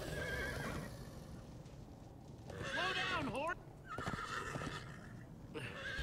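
A horse in Minecraft Story Mode whinnies loudly in a rising and falling neigh over steady background noise and hoofbeats, with another shorter neigh following.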